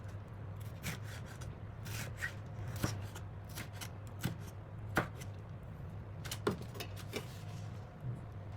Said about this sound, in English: Arrange the slices together, then turn them sideways and cut them into small,